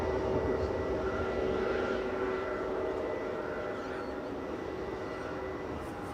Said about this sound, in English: KLM's lined up next and on the roll.